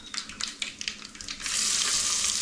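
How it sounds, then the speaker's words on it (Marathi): Tempering sizzles in a pressure cooker as dal is started, with crackling spatter and stirring at first. It then swells into a steady, louder hiss of hot oil that continues to the end. "कुकरामध्ये फोडणीला दिलं आहे."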